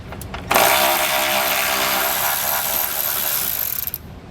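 A power ratchet or impact tool on a 13mm socket spins a bolt out of the frame rail of a 2021 Chevrolet truck during a trailer hitch install, a loud, steady, close whirring that runs for several seconds and then stops.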